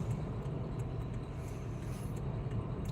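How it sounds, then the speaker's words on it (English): Steady low engine and road rumble from inside a moving Mercedes-Benz car, continuous and moderately loud throughout with no distinct events. "We're driving in the Benz."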